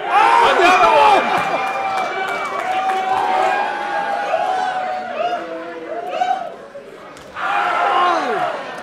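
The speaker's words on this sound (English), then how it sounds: "Wow, crowd's getting into it" Spectators at a live professional wrestling event cheer, shout and react loudly in a continuous roar with excited yells rising and falling, while a commentator speaks over the noise.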